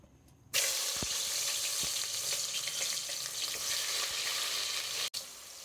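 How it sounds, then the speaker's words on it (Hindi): A sudden loud sizzle erupts as onions hit hot oil, then settles into a continuous crackling fry close by. "अभी ऑयल गर्म होने लगा तो इसमें हम प्याज डाल देते हैं"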